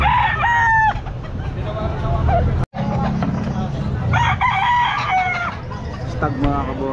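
A young rooster (stag) at a busy pet market crows and clucks repeatedly, loud and nearby, with crowd chatter and traffic noise underneath.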